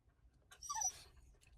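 A spaniel whines once inside a car, a short, faint, rising and falling whimper lasting under a second over a quiet low rumble.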